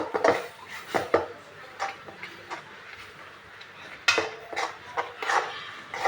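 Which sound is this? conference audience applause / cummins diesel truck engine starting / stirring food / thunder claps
stirring food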